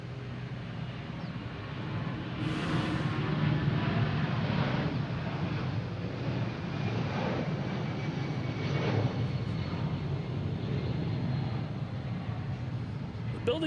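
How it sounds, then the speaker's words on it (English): A Delta Boeing 757 airliner taking off from Boston Logan International Airport, its engines a broad continuous roar that swells early and holds steady, heard from a distance. "And now we have Delta 757 heading to LAX."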